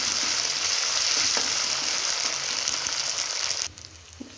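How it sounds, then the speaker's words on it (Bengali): Ginger garlic paste sizzles steadily in hot oil with browned onions for a fish and pointed gourd curry, a close, bright frying hiss with light stirring that drops off abruptly near the end. "আদা রসুনের পেস্টটা দিয়ে দেবো আমি, আর ভেজে নেব আদা রসুনটা।"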